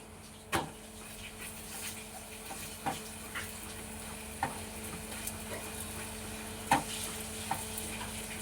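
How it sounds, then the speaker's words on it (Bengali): Sattu puris fry in hot oil with a quiet, steady sizzle, broken by a handful of sharp clicks and taps spaced every second or two. "এক পিঠ ভাজা হয়েছে, আর এক পিঠ ভালো করে ভেজে নেবেন"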